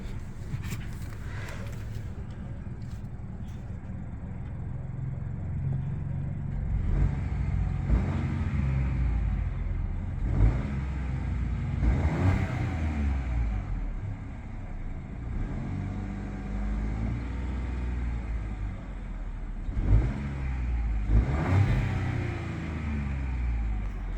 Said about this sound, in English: Alright, let's go give it a few revs.